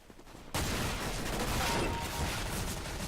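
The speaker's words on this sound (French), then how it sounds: "Alors le fusil à pompe." A shotgun fires in Counter-Strike: Global Offensive, a loud blast that cuts in after a quiet start and rings on as a sustained, dense burst of in-game gunfire.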